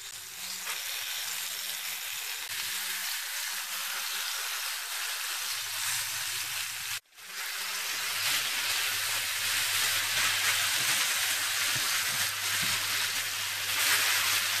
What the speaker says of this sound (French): je les fais dorer dans la poêle